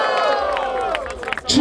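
A crowd cheers for Cauã at a rap battle with a short burst of shouting and cheering, while a voice calls over it.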